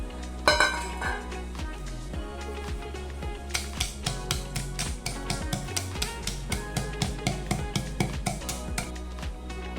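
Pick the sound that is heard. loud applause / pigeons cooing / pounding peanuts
pounding peanuts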